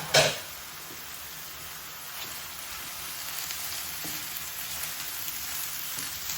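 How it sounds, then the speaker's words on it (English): Curry powder and cinnamon hitting a pan with chicken, giving a sharp burst of sizzle as the spices go in, then a steady, soft frying hiss that continues with faint stirring clicks. "we're going to throw in the curry powder and cinnamon"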